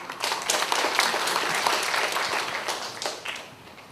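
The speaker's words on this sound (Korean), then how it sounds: "큰 박수로 맞아주시기 바랍니다" An audience at a sewerage policy forum gives a speaker a welcoming round of applause: a steady, full burst of many hands clapping that holds for several seconds and then tapers off toward the end.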